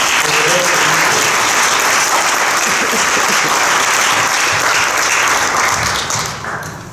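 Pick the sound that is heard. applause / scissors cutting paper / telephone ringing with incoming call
applause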